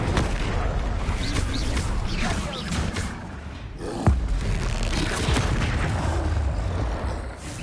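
Incendio fire spell blasts in a Harry Potter video game, a dense continuous roar of crackling fire and booming impacts with a sharp thud near the middle, mixed with other spell effects.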